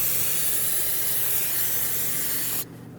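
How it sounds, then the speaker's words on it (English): Brake parts cleaner sprays in one loud, continuous close-up hiss across a GMC Yukon front wheel hub during a brake job, then stops abruptly near the end. "I'm going to take some brake parts cleaner and rinse this all off."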